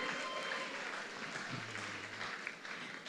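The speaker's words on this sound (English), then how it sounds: "We can make the applause louder." A large audience applauds the top 10 contestants at the Miss World Nigeria 2026 grand finale in Balmoral Hall, a dense, continuous roar of clapping filling the hall throughout, with a low hum partway through.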